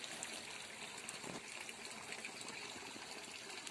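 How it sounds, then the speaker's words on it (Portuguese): Weak trickle of water running from a gully into a tank on a hillside, a steady soft splashing flow, fairly faint and continuous throughout with no voices. "E lá tá vindo uma água bem fraquinha da grota"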